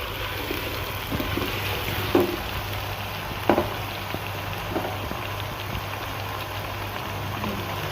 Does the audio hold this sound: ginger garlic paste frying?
yes